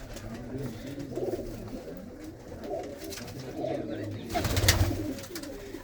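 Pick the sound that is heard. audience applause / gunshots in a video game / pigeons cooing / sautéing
pigeons cooing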